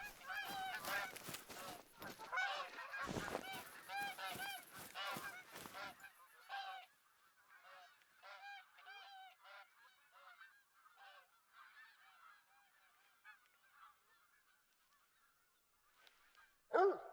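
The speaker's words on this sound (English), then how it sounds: "another one of those geese." Geese in theHunter: Call of the Wild honk repeatedly, a loud close flurry of overlapping calls at first, then thinning to scattered, fainter honks that fade into the distance, with a sharp noise at the very end.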